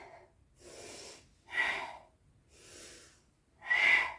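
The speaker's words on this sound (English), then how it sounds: "So as I crunch, I'm exhaling." Rhythmic breathing during a yoga crunch exercise: four breaths alternate between softer inhales and louder, sharper exhales, close and fairly quiet, with no talking.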